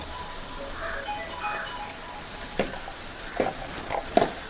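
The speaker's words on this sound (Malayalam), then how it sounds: "എന്നിട്ട് നമുക്ക് നന്നായിട്ടൊന്ന് മിക്സ് ചെയ്ത് കൊടുക്കുക." A spoon stirs chilli and turmeric powder into snake gourd egg thoran in a pan, with a soft background hiss and a few sharp scraping clicks toward the end.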